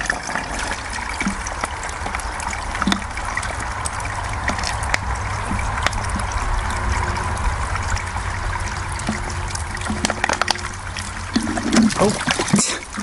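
Water trickles steadily through a backcountry water filter into a water bottle outdoors, a continuous close dribble that runs throughout with occasional faint handling noises.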